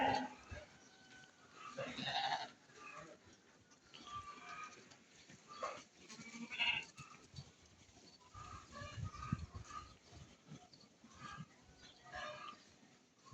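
Lambs of the Beylagan sheep breed bleating on a farm, several calls rising at intervals from a busy, noisy pen with a steady background bustle.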